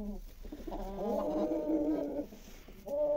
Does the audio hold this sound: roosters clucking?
yes